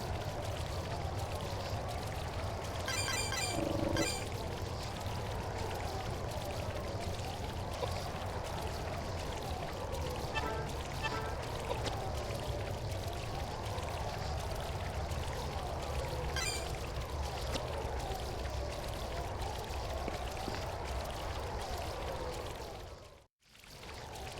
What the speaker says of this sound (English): And this is a holy water fountain.